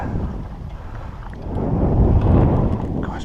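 Breezy wind blowing across a lakeside carp-fishing swim at Cassien, a steady broadband rush that swells louder midway through and stays continuous, with no talking.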